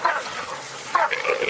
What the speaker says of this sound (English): Good dog. Good dog.